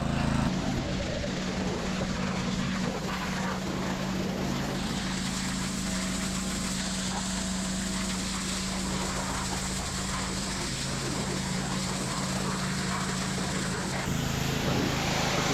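A small engine started on choke runs with a steady, loud, droning hum that shifts slightly in tone partway through and keeps going without pause, with no clear talking over it.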